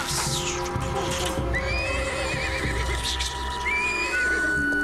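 A cartoon horse whinnies in a long, wavering neigh and then a second one, close and loud, over a busy bed of hoofbeats and scene noise, with no talk.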